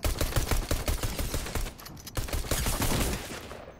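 Rapid gunfire from weapons in the Fortnite video game crackles in dense, fast bursts, loud and near, with a brief gap before the shooting resumes.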